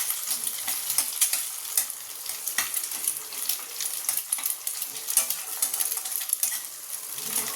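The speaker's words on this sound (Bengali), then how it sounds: "প্রথমে একটা ডিম ভেজে নিচ্ছি" An egg fries in a pan with a steady crackling sizzle, punctuated by scraping and light clinks of a utensil against the pan, close up and without talk.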